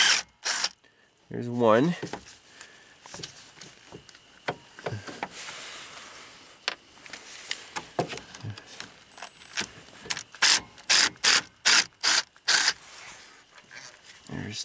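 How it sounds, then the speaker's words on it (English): Small screws are worked loose from a car's ignition coil with a hand tool, a series of quick metallic clicks and ratcheting bursts near the mic, with someone talking in between. "Hopefully these little screws will come out."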